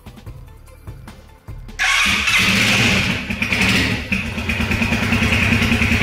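A motorcycle fitted with a kill switch and alarm: a few quiet clicks, then the engine cranks and fires into a loud, steady idle with slight revving, close by and with no talking.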